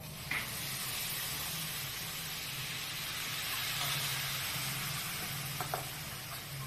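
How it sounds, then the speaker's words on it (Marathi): Milk poured into a hot pan for Kolhapuri zunka with the gas turned off, a steady loud sizzle and hiss that holds evenly throughout, close up with faint clinks and no talking. "गॅस बंद आहे माझा आणि मी दूध घालते."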